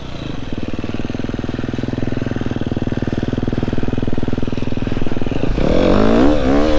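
An enduro motorcycle labours off-road with a fast, buzzing, close engine pulse that climbs steadily in loudness, then the revs rise and waver sharply in the last second as the rider gives more throttle.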